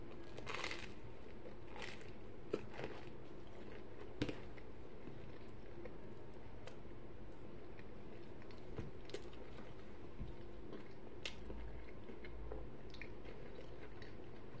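Close, quiet mouth noises of someone chewing a panini: soft wet squishes and occasional crunchy bites in an irregular rhythm, with sharper clicks and smacks scattered through a low background.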